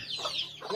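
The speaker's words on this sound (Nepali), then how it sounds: "अर्ग्यानिक लोकल कुखुराको चल्ला लु।" Local organic chicks in a village make a brief, close burst of soft clucking calls, with no one talking.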